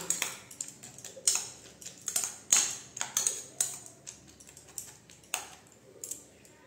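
A cracked egg is mixed with chopped onion and salt in a bowl for a Bengali egg paratha breakfast. Close, quiet utensil taps click in an irregular series.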